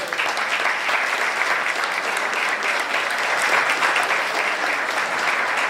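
An audience applauds after a historian's lecture on Luperón, a steady, dense wash of clapping from a crowded hall at moderate loudness throughout.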